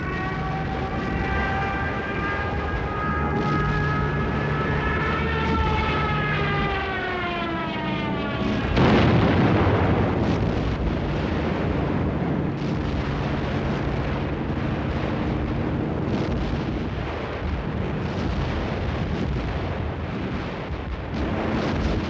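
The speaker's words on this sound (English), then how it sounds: "terrific aerial bombardment." Wartime aerial bombardment: a diving aircraft's descending whine builds over several seconds, then a heavy explosion bursts in and settles into a sustained loud rumble of aircraft and blasts.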